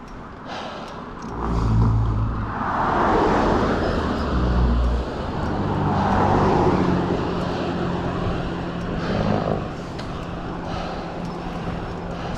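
A rusty old non-turbo International truck drives on the road, its engine a steady low rumble that swells and eases with road and wind noise, heard continuously from close by.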